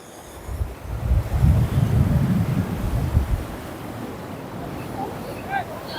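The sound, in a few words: waves at Parki sea beach, Chittagong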